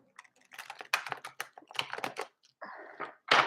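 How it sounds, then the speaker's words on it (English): Tarot cards get one big Vegas-style shuffle, heard as close, quiet bursts of rapid papery clicking and flicking in short uneven runs, with no talking. "I'm going to do what I like to call a master shuffle, which is just one big like Vegas shuffle."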